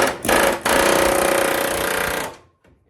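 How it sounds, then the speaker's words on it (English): An air hammer fitted with a wide bit rattles hard against spot welds on a rusty rocker panel, a loud continuous metallic chatter with a brief pause early on, then stopping abruptly. "My wide bit here on the air hammer."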